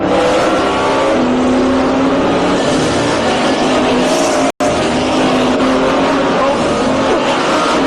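Race cars in the final laps of a three-way race, a loud, continuous close engine roar that drops out for a brief instant before snapping straight back.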